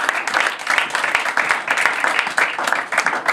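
A church congregation claps and applauds for the Lord, a steady wash of many hands with rhythmic accents, moderately close and continuous, with voices mixed in beneath the applause.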